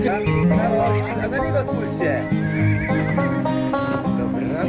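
A horse at a horse camp whinnies loudly and repeatedly up close, its shrill calls layered over steady talking and excited voices nearby.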